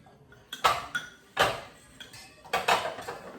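A spoon scrapes and clinks against a pot of raspberry jam on the stove in a few quick, close strokes, with small pauses between them.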